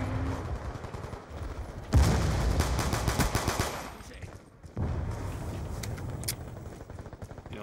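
Rapid automatic gunfire in a Black Ops II multiplayer match, dense bursts of shots rattling close and loud with short pauses between volleys, mixed with game noise and some talk in the background.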